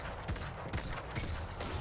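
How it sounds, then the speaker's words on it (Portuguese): Several hand cannon shots ring out in Destiny 2 gameplay, three or four sharp reports spaced out over under two seconds, fairly faint within the game mix. "Um tiro."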